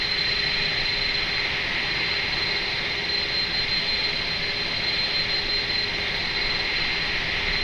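A simulated airliner jet engine in Microsoft Flight Simulator spools up with a steady, loud roar and a high whine, heard from inside the cabin, continuous with no talk.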